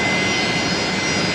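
A Fokker airliner approaching Brisbane Airport at night, its engines a steady, loud broadband roar that holds without a break, with no voices.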